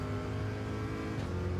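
Race car engine in Gran Turismo 7 drones steadily and loud throughout, a continuous mechanical roar with no distinct braking squeal standing out.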